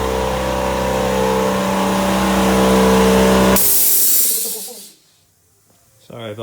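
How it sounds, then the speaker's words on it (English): In a workshop beside a Honda CB550 motorcycle, an air compressor runs with a loud steady hum, then a strong hiss of blowing air that cuts off into near silence before a faint sound at the end. "Sorry about that air compressor"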